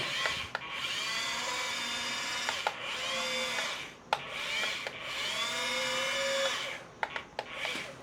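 Small RC toy excavator turning, its electric motors giving a steady whining drone in bursts, broken by short clicks and pauses between movements, close and fairly quiet with no talk.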